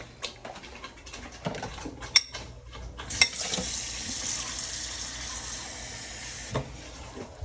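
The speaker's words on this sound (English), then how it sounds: "this is a bit still thick, so I'm gonna add actual water now." Water pours from a bowl into a pot of thick jollof rice stew, starting with clinks and scraping of utensils, then a steady hissing splash and sizzle for a few seconds before a final clunk.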